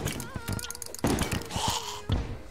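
A bomb goes off in Terraria with a few dull thuds and one sharper burst, mixed among other game effects and a voice.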